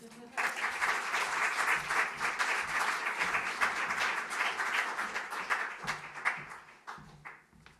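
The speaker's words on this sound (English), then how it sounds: "Round of applause for Jonathan." An audience at a poetry gala applauds in a sustained, dense burst of clapping that gradually thins and fades out near the end.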